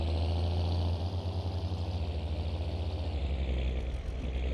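A tractor engine runs in the Farming Simulator 22 farming game, a loud, steady low diesel drone that holds the same rough, throbbing rumble from start to finish with no talk.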